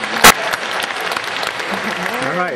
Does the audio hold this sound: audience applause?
yes